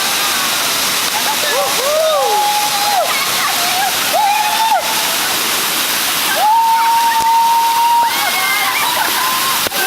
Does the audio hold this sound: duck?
no